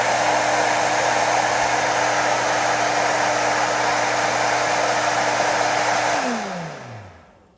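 A blower runs as a loud, steady whooshing roar with a constant motor hum close by, then spins down and fades away at the end, with no talking.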